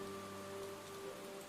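Steady rain falling outside an open window, a soft continuous patter on surfaces with a faint background hum, no voices.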